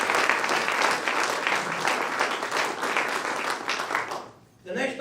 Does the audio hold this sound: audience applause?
yes